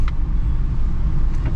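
A cheap, basic used Fiat hatchback on a test drive, heard from inside the cabin as a steady, loud low engine and road rumble with faint tyre hiss and no talking.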